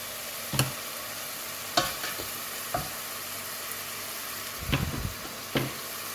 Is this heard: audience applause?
no